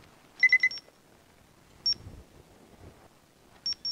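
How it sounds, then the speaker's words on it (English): A Char-Griller AKORN grill's temperature alarm chirps in short, bright electronic beeps: a quick burst of four, a single beep, then two more. The beeps are spaced apart over a quiet background. "you want to kill the alarm, you can either press it on the grill"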